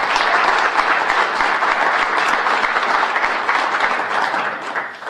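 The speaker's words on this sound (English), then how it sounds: "So they deserve a round of applause, whether they can hear it or not." A loud crowd at a city address event in a college hall breaks into sustained applause, dense and even, tapering slightly at the end.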